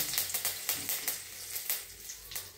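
Hot oil crackles and sizzles steadily as leaves and spice hit the pan, with sharp pops scattered over a continuous hiss.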